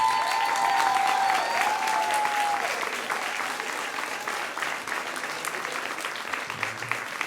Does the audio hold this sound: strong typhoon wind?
no